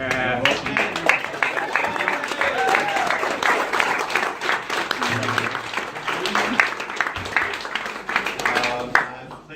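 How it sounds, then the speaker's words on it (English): Audience applause at a book launch event, a steady wash of many hands clapping through most of the stretch, with voices murmuring and talking underneath. "I'd like to give you a round of applause."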